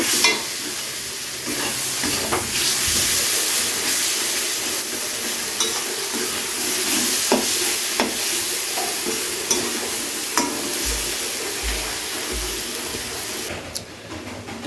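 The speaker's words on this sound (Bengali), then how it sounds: "এবারে সব কিছুকে একসাথে খুব ভালো করে কষিয়ে নেব" A fish-head chhyachra mixture with tomato and Kashmiri chilli powder sizzles loudly in a pan, with a constant frying hiss and repeated scraping strokes of a spatula up close, no voices.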